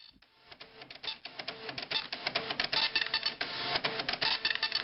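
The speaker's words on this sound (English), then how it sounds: "the sounds of the old Epson dot matrix" An old Epson dot matrix printer at work, a rapid, rasping chatter of print-head strikes in quick uneven bursts, fairly close and continuous, with no talk.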